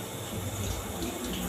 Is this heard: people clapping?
no